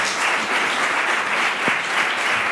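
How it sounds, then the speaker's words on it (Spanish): Dense audience applause after a talk on the cognitive benefits of physical activity, a thick, even roar of many hands clapping close and loud throughout. "Pues un aplauso para Adele Diamond"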